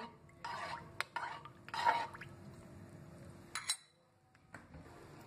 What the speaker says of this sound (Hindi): अभी हम पानी में एक चम्मच चूना डालेंगे और इसको अच्छे से मिक्स कर देंगे